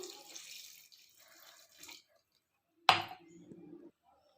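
Water poured into a cooking pot holding potatoes and soaked chickpeas, a short splashing gush close by after a few quiet clinks and kitchen noises.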